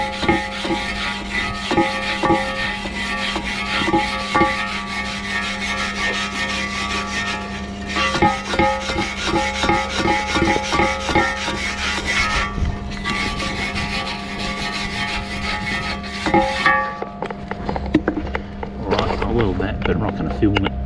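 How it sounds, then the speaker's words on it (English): A grinder or wire brush works the bottom of a burnt-out wood heater baffle plate, giving a loud, continuous abrasive scraping with gritty bursts and brief pauses, close by, under occasional talking. "So let's give the bottom a quick grind, or wire brush it."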